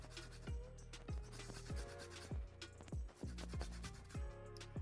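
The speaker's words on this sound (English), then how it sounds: "going to take my zester or cheese grater or whatever you have on hand and just kind of move the lime back and forth" A lime rind is rubbed back and forth over a zester or cheese grater, giving a steady run of close, dry rasping strokes in an even rhythm. There is no talk.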